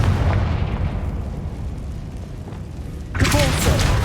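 A Confringo explosion spell goes off in the game Hogwarts Legacy as a deep rumbling boom that rolls on loudly, followed by a sharp bright burst of magical crackle near the end.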